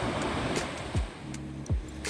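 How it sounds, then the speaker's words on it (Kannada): Strong ocean waves wash against the shore in a steady roar of surf, with two deeper whooshing surges rising out of the rush, heard from a short distance without any voices. "ಇವತ್ತು ಅಲೆ ತುಂಬಾ ಜೋರಾಗಿ ಬರ್ತಾಯಿತ್ತು"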